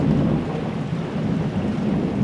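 A steady thunderstorm in an animated film: heavy rain hisses evenly under a low continuous rumble of thunder, loud and unbroken, with no voices.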